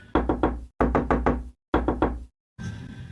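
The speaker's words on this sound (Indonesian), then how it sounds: "Pintu kamarku dipukul begitu keras." Loud, close knocking on a bedroom door: a quick run of four raps, then three, then two more bursts with short silences between, no voices.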